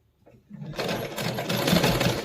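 A sewing machine stitches a salwar, starting from silence and settling into a loud, steady, close motor hum with rapid needle clatter and no talking.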